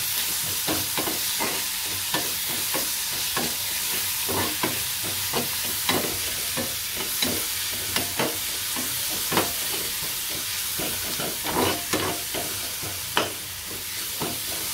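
Turmeric and salt being stirred into a hot frying pan while making poha: a continuous bright sizzle punctuated by frequent scraping spoon strokes in an uneven rhythm, close and loud, with nobody speaking.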